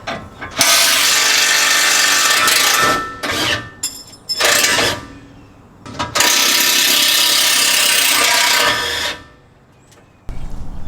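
A hand ratchet clicks hard and fast while loosening a suspension bolt at the axle of a Ford F250 during a 4-inch radius arm lift install, in several long loud bursts with brief pauses between.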